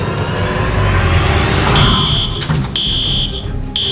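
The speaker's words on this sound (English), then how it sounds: "Morgan, Darren, it's the fire alarm" School fire alarm sounding loudly with a steady, harsh electronic tone that cuts in and out in short bursts, heard up close with no talking.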